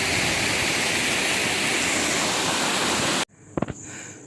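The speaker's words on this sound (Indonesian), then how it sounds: "Kita ada di air terjun." Steady, loud rush of a waterfall at a trail post on Mount Halau Halau, filling the air without a break for about three seconds before cutting out to quiet, followed by a couple of short thumps.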